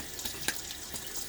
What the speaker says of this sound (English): Put a little water on there